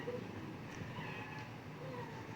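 A cat meows softly over a low, steady rumble that fits purring, faint and close, with no talk.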